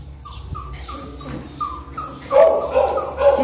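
A small puppy that has been limping whimpers in repeated high, thin whines and yips, fairly close and moderately loud, with no talking over it.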